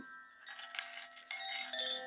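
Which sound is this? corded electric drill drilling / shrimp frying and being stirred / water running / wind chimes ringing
wind chimes ringing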